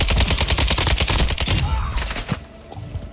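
Loud, close video game gunfire as a rapid automatic stream for about a second and a half, then a few scattered shots and faint voices as it dies away.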